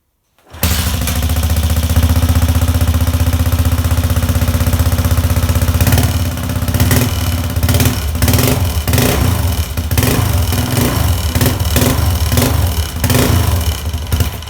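A barn-stored Yamaha XT500 single-cylinder motorcycle catches on the first kick and settles into a loud, close, steady running thump with a few throttle blips, no speech over it.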